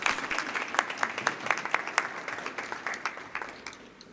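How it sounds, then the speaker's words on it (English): Audience applause at a school board of education meeting in Franklin Township, a steady patter of many hands clapping at moderate distance, swelling briefly and then tapering off over a few seconds. "So that calls for a round of applause."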